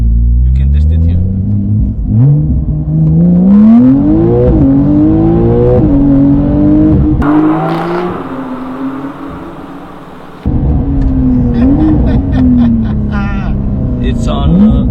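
Close, loud engine of a Porsche 992 Carrera 4S with aftermarket exhaust and a pops-and-bangs map in sport mode, revving up and down through several sweeps, with a lull in the middle before the engine picks up again. People talk over it.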